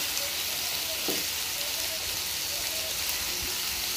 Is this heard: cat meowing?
no